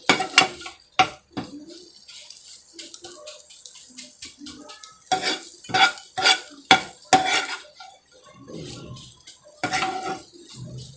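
A spatula stirs frying egg bhujiya in a pan, giving scattered metallic scrapes and clinks against the pan at irregular intervals with faint sizzling between them.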